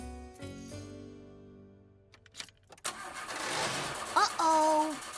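A car engine in the cold cranks and sputters, struggling to start, after a short musical passage in a cartoon, with a voice speaking over the end.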